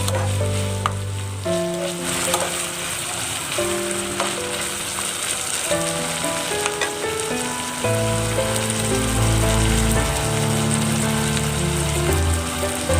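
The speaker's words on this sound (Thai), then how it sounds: "ผัดแครอทก่อน" Carrots stir-frying in a pan, a steady bright sizzle and crackle that runs throughout with occasional scrapes and stirs, close and fairly loud, with a low background tone under it.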